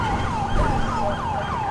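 A wailing police siren from the LSPDFR police game, sweeping up and down in a steady repeating cycle, loud and close, with engine rumble underneath.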